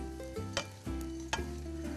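Small dried anchovies stir-fried over high heat, a continuous close sizzle broken by a few sharp scraping clicks of a spatula against the pan, with no voices.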